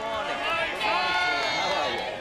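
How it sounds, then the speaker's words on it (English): Crowd gathered outside for a live radio outside broadcast in 1998, an excited babble of many voices with scattered whoops and cheers. The crowd sounds close and steady throughout its brief stretch. "By now, the excitement in the crowd was building."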